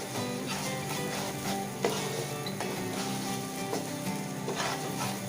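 Polao rice fries in a pan for shahi chicken polao, giving a steady, moderate sizzle throughout with occasional soft stirring knocks.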